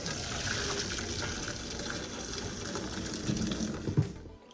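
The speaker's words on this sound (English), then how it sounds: "We got Dad gonna strain the pasta noodles" Water pours and gushes steadily from a pot of cooked pasta noodles into a strainer, a close continuous splashing rush that ends with a brief clatter before falling quiet.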